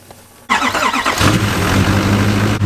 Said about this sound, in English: So this is our first startup right here on the hot side, so the driver's side of the motor.